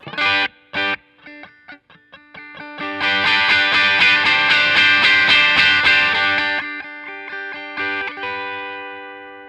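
Heavily distorted electric guitar through a Catalinbread Karma Suture pedal rings out: a few sharp plucked notes, then a loud sustained strummed chord that slowly decays, with no voices.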